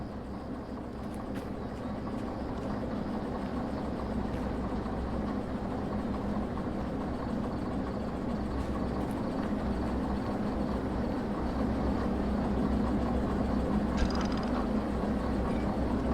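A video-game train locomotive strains to pull a heavy double load, a steady droning engine rumble with a constant hiss and no breaks throughout.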